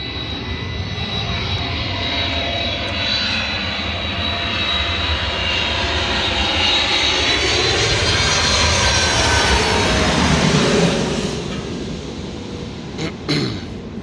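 A fixed-wing airplane passes low overhead near an airport, a loud, steady engine roar that builds and then fades over several seconds, with no voices.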